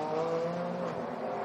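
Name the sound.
race car coming into the pits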